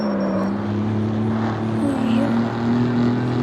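Car driving at speed on a street, heard from inside as a steady low engine drone with a humming tone and faint road rumble, continuous and loud.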